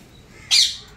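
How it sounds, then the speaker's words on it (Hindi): A single short bird chirp from chickens and chicks in a small backyard nursery, one bright tweet lasting a fraction of a second that stands out clearly against quiet background. "ये मुर्गियाँ हैं,"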